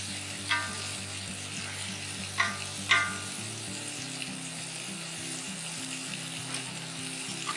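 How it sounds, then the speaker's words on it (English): Butter and low country boil seafood frying on a hot griddle give a steady, fairly quiet sizzle with a few soft pops, under background music and with no one speaking. "We're going to put a little bit of butter down at the bottom."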